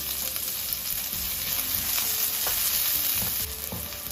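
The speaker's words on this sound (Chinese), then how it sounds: "油热之后，把切好的葱花、姜末放进来，给它炒一下，炒出香味。" Chopped scallion and ginger stir-frying in hot oil, a dense continuous sizzle with occasional scraping stirs, close and steady with no talking.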